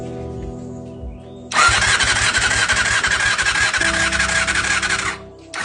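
A Honda Hornet CBR motorcycle that won't start is cranked by its starter during a compression test, a loud, continuous whirring churn lasting about three and a half seconds before cutting off, with no speech.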